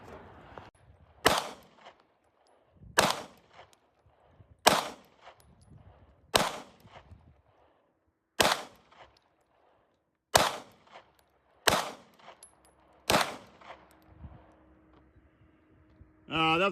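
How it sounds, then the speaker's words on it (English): Shotgun blasts at an outdoor clay shooting range: eight sharp, loud reports spaced a second or two apart, each with a short ringing decay, followed by a faint low hum and a brief rustle at the end. "That was clay shooting."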